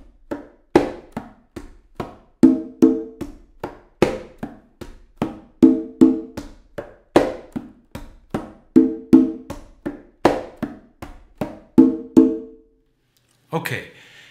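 A conga drum plays a son montuno pattern with heel, tip and open tones, a steady run of quick muted taps broken by ringing open strikes, close and alone, ending in a brief burst of noise.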